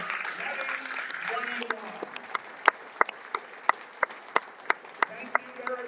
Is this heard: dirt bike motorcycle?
no